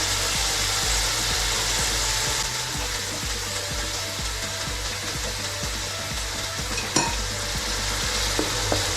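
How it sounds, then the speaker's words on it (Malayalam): Mixed vegetables sizzle and fry steadily in a pan for a vegetable pulao, with a spoon stirring through them in repeated scraping strokes close by; no talking. "ഇതിലേക്ക് നമ്മൾ മിക്സഡ് വെജിറ്റബിൾ ഇട്ട് കൊടുക്കുകയാണ്. നന്നായിട്ട് ഇളക്കി കൊടുക്കാം."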